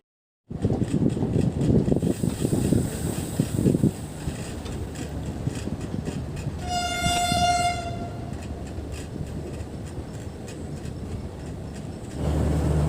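The 12881 Garib Rath Express from Shalimar to Puri runs through the night with a steady, close rumble of wheels on rails and carriage noise. A sustained horn blast sounds partway through, then the rolling clatter continues.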